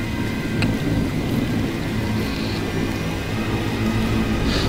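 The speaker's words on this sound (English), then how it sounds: "how stormy, how much lightning there is in this cutscene" Thunderstorm from a S.T.A.L.K.E.R. video game cutscene, a steady heavy rumble of rain and wind with low thunder rolling underneath and a faint crackle of lightning near the start.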